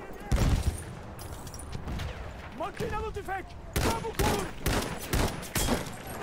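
Gunfire in the World War I shooter Battlefield 1: a rapid burst of loud, sharp shots, then a run of separate cracks and short volleys after a pause. Speech can be heard in between the shots.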